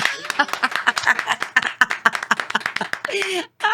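An audience claps for a guest taking the stage at a talk show on cancer, addiction and anxiety. The brisk clapping is dense and close, mixed with cheering voices, and fades out near the end.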